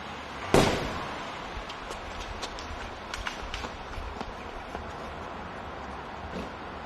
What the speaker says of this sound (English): we hear something that sounds like a gunshot